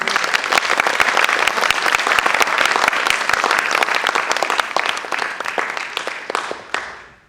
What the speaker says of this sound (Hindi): तो एक बार तालियों स्वागत कर दीजिए।